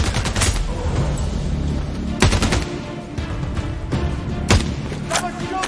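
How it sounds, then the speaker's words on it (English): Gunfire in the video game Sniper Ghost Warrior Contracts 2, set in a grey desert in Zinda Province: loud, close bursts of rapid automatic shots and heavy booming reports, repeated through the stretch over a rumbling background. "Someone's shooting us!"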